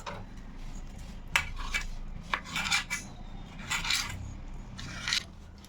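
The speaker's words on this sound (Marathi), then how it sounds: "आता आपण याचे असे बारीक काप करून घेणार आहोत" A knife finely chops roasted, peeled eggplant on a board, giving a series of close, irregular scraping and tapping strokes over a quiet background.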